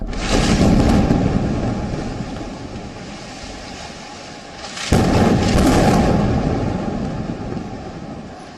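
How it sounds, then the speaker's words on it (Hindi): Air strike explosion on a Gaza building, Israeli bombing: a broad rumbling roar eases down, then a sudden fresh blast midway swells into another loud, drawn-out rumble that gradually trails off, with no talking. "तीसरा धमाका।"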